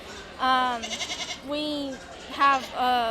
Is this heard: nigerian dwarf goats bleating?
yes